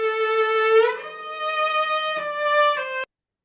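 A cello recording, two takes joined with a crossfade, plays back in Reaper as a sustained bowed tone that shifts to a lower note and holds steady through a couple of changes before stopping abruptly, with no talking.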